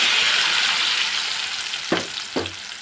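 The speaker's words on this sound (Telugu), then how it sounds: "మొత్తాన్ని ఆయిల్లో ఫ్రై చేసుకోవాలన్నమాట." Ground spice paste dropped into hot oil sizzles steadily, with two sharp bursts of spattering as more paste hits the pan, close and fairly loud with no voices.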